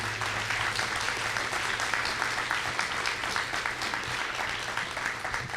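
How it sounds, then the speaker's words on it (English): Steady applause from an audience at a State of Downtown Kenosha civic event, a dense, even wash of many hands clapping that holds at moderate loudness throughout, with a faint low hum beneath. "So love to have an applause for those two."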